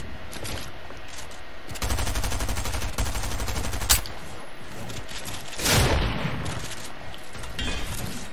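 Gunfire in the video game Fortnite: rapid bursts of automatic fire, a sharp single shot near four seconds and a heavy boom-like blast near six, loud and close, with no talking.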